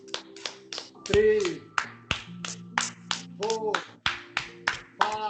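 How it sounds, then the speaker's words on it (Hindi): Finger clapping during a yoga clapping-therapy session: a steady run of sharp, close claps in a regular rhythm, with a voice counting aloud between some of them. "Clapping therapy. और जोरदार ताली बजाएं"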